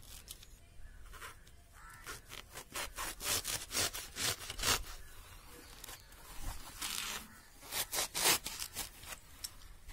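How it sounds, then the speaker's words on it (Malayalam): A sponge is cut into a small square for a homemade paint brush, giving a run of short, rasping cutting strokes in irregular bursts, close and fairly quiet. "അപ്പം ഞാനിതൊരു ചെറിയ സ്ക്വയർ ഷേപ്പിൽ ഇങ്ങനെ കട്ട് ചെയ്തെടുക്കാൻ പോവാണ്."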